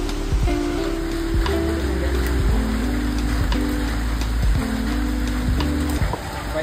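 Heavy monsoon rain falls near Karnala Fort, a steady dense patter and hiss running throughout, with a low tonal hum underneath and no talk.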